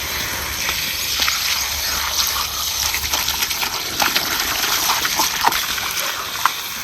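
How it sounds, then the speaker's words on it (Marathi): Wild leafy greens (kurdu bhaji) are rinsed vigorously in running water, producing continuous gushing and splashing with scattered sharper splatters and clinks, fairly close and loud without talk. "आता ही का नाही भाजी आपण चांगली मोकळ्या पाण्यात खळाखळा धुवून घ्यायची आहे"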